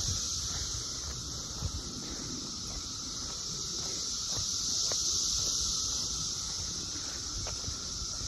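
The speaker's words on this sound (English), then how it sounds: "Do you have cicadas where you are? Because they are everywhere here." Cicadas drone outdoors in Montgomery County, Maryland in late May, a faint, steady, high-pitched buzz that holds unbroken over soft background noise.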